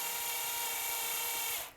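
An electric drill spins steadily while winding wire into a stem for a model pine tree, giving a continuous high whine for under two seconds before it stops abruptly.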